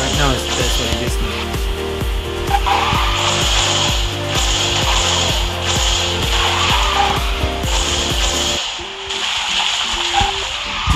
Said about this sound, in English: Drifting in a V shape